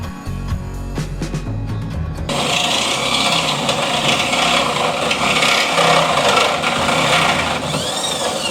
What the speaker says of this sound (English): we're getting some pilot holes so we can start with the Sawzall